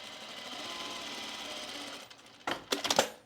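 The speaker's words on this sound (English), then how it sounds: "we're going to just stitch it on at a 1/4 inch seam" After a steady background hum, a sewing machine runs in short rapid stitching bursts, sewing a quarter-inch seam on a tool case pocket.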